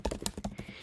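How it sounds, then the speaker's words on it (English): Rapid keystrokes on a computer keyboard while a name is entered into a book template, roughly eight crisp, close taps in under a second with no talking. "so you're going to type your name in here"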